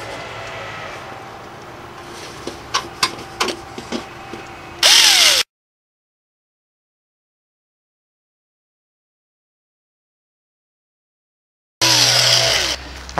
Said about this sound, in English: and I'll drill the holes.